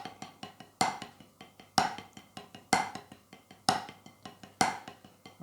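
A snare drum plays five-stroke rolls jazz style, strung together without gaps, each group of quick soft strokes ending in a sharp accent, repeating about once a second, close and alone.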